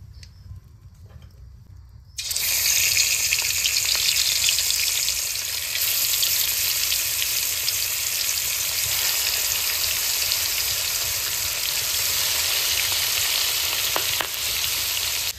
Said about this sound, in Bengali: এবার তেল দিয়ে মাছটা ভেজে নেব।